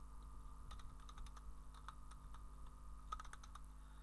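Rapid keystrokes on a computer keyboard while typing in a website field, irregular clusters of clicks close to the mic over a steady low electrical hum, with no voice.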